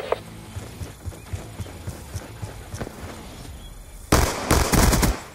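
Gunfire from the Black Ops II video game in gun game mode: a steady series of soft rhythmic shots, then a loud dense burst of rapid fire near the end.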